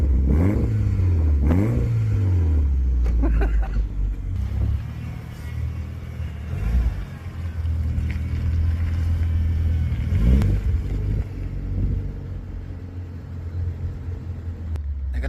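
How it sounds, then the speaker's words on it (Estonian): Mitsubishi Lancer Evolution engine revving: repeated loud throttle blips and rising rev sweeps over a deep idle rumble, close and powerful, with a few brief pauses between bursts. "Tee natukene vrõmm."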